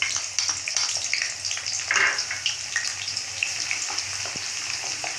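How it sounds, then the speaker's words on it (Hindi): Chopped garlic and cumin seeds fry in hot oil, a steady close sizzle with light crackles and the occasional stir, no voices. "थोड़ा हम इसको फ्राई करेंगे।"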